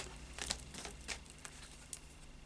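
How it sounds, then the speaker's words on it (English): A Light Seers Tarot card deck is shuffled by hand, making a few quick, papery riffles and soft flicks in short bursts, close and fairly quiet with no voices. "then we'll just do a final shuffle of the Light Seers Tarot"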